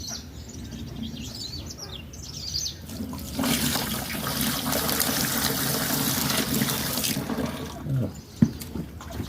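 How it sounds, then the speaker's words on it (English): A liquid solution poured through a sieve outdoors, much of it splashing to the ground: a steady rushing pour lasting several seconds, preceded by birds chirping in the background. "So I'll pour my solution into it."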